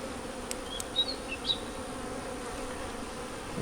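Honey bees in a hive with a laying queen hum in a soft, steady drone, with a few brief nearer buzzes and short chirps standing out early on.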